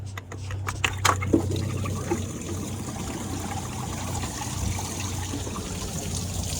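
Coolant drains from a Cummins 24-valve engine's water pump into a drain pan, a steady trickle and splatter of liquid running continuously at close range, with a few sharp clanks near the start and no talking.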